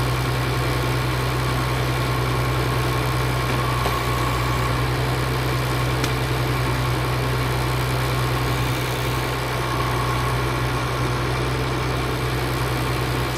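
A farm tractor's engine idles continuously, a loud, steady low rumble with a constant drone and vibration, close by and with no talking.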